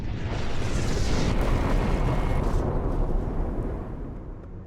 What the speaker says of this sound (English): Local people noticed strange lights in the sky, followed by a huge explosion.